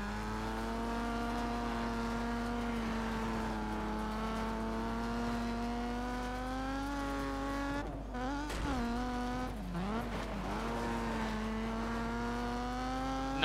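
Rally car in the racing game Colin McRae Dirt 2, its engine droning steadily and loudly throughout, with brief revving dips and tire scrubbing as it slows under a handbrake tap near the middle.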